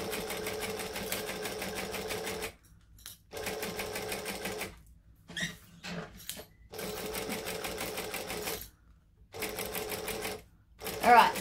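A sewing machine stitches a leather wallet in bursts of rapid mechanical whirring, stopping and restarting several times for pivots at corners, heard up close.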